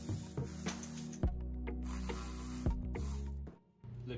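A ratchet with a 10mm socket removes bolts during spark plug and intake manifold gasket work on a Pentastar engine, making faint, close clicks and clunks of tool contact over a steady hum.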